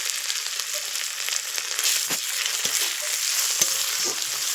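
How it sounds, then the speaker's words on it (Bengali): Ginger fries in hot oil in a pan, a steady close sizzle broken by a few scraping strokes of a spatula as it is stirred, with no talking. "এবার আদা দিয়ে একটু ভাজা ভাজা করে নিচ্ছি, একটু ভালো করে নাড়াচাড়া করে নেব।"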